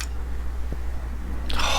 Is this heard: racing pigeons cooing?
no